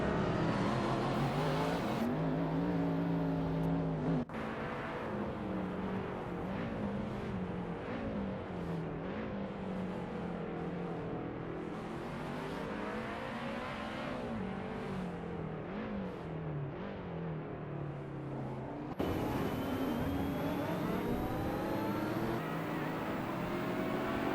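AI-driven supercars racing at Long Beach in a racing simulator game, engines droning and shifting pitch continuously with rising and falling revs, punctuated by abrupt cuts between cars.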